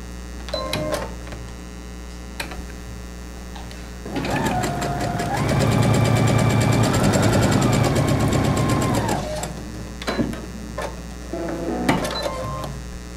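A sewing machine stitches nine-patch quilt block pieces in one sustained, close run of several seconds, with someone talking before and after the burst.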